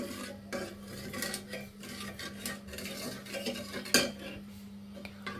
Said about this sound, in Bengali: আমরা চিনির শিরাটাকে বানাতে থাকব, এবং এটাকে কিন্তু অনবরত নাড়তে হবে।